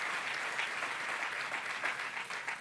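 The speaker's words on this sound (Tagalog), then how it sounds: "Palakpakan natin na malakas na palakpak ang ating mahal na Panginoon" Congregation clapping loudly in praise of the Lord during a preaching service, an even, continuous roar of many hands heard from some distance, steady throughout with no speech over it.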